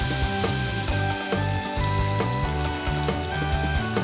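Potato pieces frying in hot mutton fat inside a kazan give a steady, close sizzle with no pauses. A few faint tonal hums run underneath, and nobody speaks.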